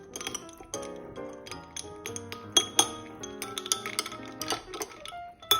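A spoon clinks and rings against a glass while stirring butterfly tea lemonade, with a rapid series of bright, close metallic taps and chimes that rise and fall in irregular clusters.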